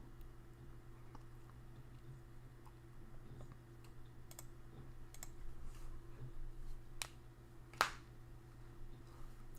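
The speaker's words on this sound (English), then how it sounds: "for now you get some mouse clicking ASMR" A computer mouse is clicked at a quiet desk in sparse, faint, close clicks scattered unevenly, with one sharper click near the end.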